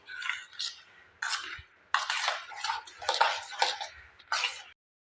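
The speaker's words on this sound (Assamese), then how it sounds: "এতিয়া গোটেইখিনি মই ভালদৰে মিলাই ল'ম" A spoon mixes curd (yogurt) into idli batter made from black gram and rice. It clinks and scrapes against the bowl in short, close bursts separated by brief pauses, with no talking.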